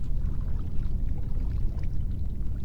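Water flows in a video game with an unbroken, even rushing and gurgling wash, close and fairly loud, with no voices.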